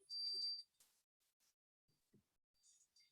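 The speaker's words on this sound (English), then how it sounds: "It's going to keep like beeping forever and ever and ever" An Edison educational robot beeps: one loud, high-pitched electronic tone opens, followed by a few faint short chirps and soft background noise in an otherwise quiet room.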